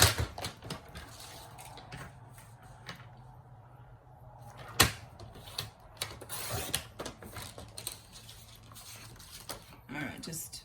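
Cardstock being trimmed for a stamped card gives sharp, irregular clicks and slicing snaps up close, with a few louder cuts, while a person talks quietly in between.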